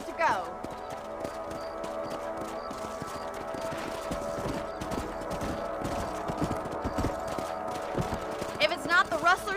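Horse hooves clip-clop at a steady walking rhythm in Red Dead Redemption, close and continuous beneath someone talking, with a brief whinny near the start and end.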